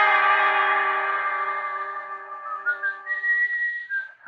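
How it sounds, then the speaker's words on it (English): A man whistles a sustained melodic tune, the elevator boy in an empty building at night, with long steady notes that later break into shorter wavering phrases, clear and close with a slight echo and no talk. "And then I heard the whistling"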